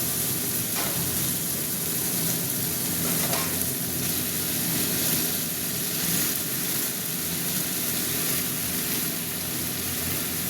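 Spinach stirred into a frying pan with tomatoes and potato, a loud continuous sizzle with scraping stirring strokes, close up and steady, with no talking.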